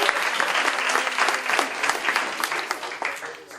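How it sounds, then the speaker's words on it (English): Loud audience applause at a financial planning seminar workshop, a dense burst of clapping that stays strong before gradually thinning toward the end. "can I hear a loud applause?"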